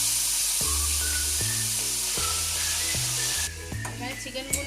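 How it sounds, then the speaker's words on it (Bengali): Chicken pieces fry in hot oil with a loud, continuous sizzle, broken by regular scraping stirs of a utensil in the pan; the hiss drops off near the end. "ওইদিকে একই তেলের মধ্যে এখন চিকেনগুলো চলে যাচ্ছে, এগুলোকে একটু ভালো করে একটু ভেজে নেবে।"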